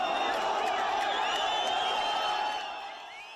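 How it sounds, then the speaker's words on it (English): A large crowd in a Gaza street roars and cheers continuously, a dense wash of voices and whoops that holds steady before easing off toward the end. "Crowds in the streets in Gaza as Palestinian detainees released as part of this deal returned."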